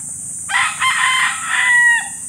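A black rooster crows once at close range in the countryside, one loud, drawn-out cock-a-doodle-doo lasting over a second that rises and then trails off, heard alone.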